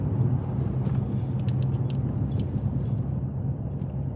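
A Shelby car engine pulls away from a stoplight, a steady loud low rumble holding throughout with faint clicks and rattles above it and no talking.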